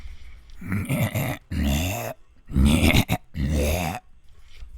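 A voice imitating the rasping breath of a Regenerator from the video game Resident Evil 4, a series of hoarse groaning breaths, close and loud, with short gaps between them.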